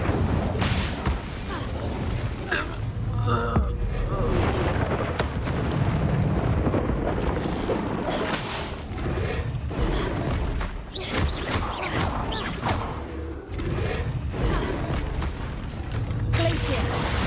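Fiery spell blasts from the Hogwarts Legacy video game, a dense run of booming, crackling bursts repeating through the whole stretch, loud and close amid other combat effects, with a voice calling out spell names.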